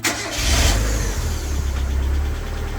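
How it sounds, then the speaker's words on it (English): Mazda MX-5 engine running with a hydraulic lifter tick, a steady low mechanical drone with faint rapid ticking throughout, close and fairly loud. "Yeah, you can hear the lifter tick."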